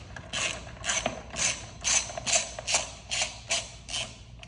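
Small metal mechanism clicks from a screw being backed out of a minibike clutch cover, a series of about nine rhythmic ratchet-like bursts, close and moderately loud, with no talk.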